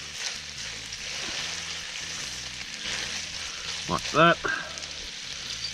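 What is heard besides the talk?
bacon sizzling in oil while being stirred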